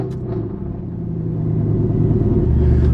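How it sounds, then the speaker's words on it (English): Mercedes C63 engine on a cold start, a deep, loud V8 rumble at close range settling into a steady idle that grows slightly louder over three seconds. "So, cold start."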